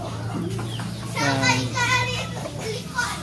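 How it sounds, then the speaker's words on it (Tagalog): A native hen wanting to lay an egg clucks and cries in drawn-out, wavering calls close by, with chatter and other farmyard noise around it. "Pag umiiyak po yung manok na ganyan, gusto na mangitlog."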